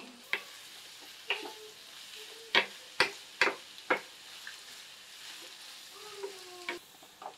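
Onions fry in a pan under a quiet sizzle while a spatula strikes and scrapes the metal in a cluster of sharp taps, then fades to gentler stirring.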